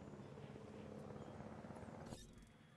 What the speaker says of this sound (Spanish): Mejor en helicóptero, chicos, que es más rápido.